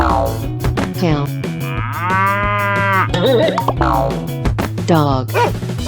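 A cow moos several times in a 3D animal video game, the lowing calls recurring across the clip over steady game music and sound effects.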